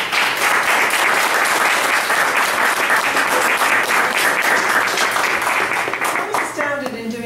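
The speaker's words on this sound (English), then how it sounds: "give them a huge round of applause" Loud, sustained applause from an audience at a local candidates' debate, dense steady clapping that fills the whole stretch and begins to thin only at the very end.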